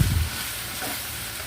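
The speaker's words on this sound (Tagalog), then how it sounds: "haluin lang natin yan" Bicol express with rinsed shrimp paste being stirred in a pan, a steady low sizzle with faint scraping running throughout, louder at the very start.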